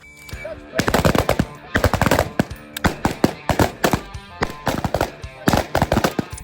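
AR-15 carbine rifle fire during rifle drills: sharp, loud shots in quick irregular strings and bursts, several rifles firing nearby on a range.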